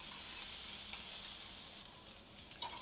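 Green chili and ginger-garlic paste sizzle in oil over a low flame for an egg curry, giving a steady, faint, hissing fry with a few soft crackles.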